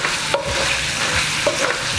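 Ground beef patties for an In-N-Out style Double Double burger sizzle in a hot pan, a loud, close crackling fry marked by a couple of sharp spatula scrapes.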